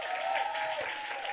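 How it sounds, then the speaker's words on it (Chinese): Church youth congregation clapping warmly to welcome a new member at a Sunday service, a steady wash of applause filling the room for over a second. "我们青少年热烈给他掌声"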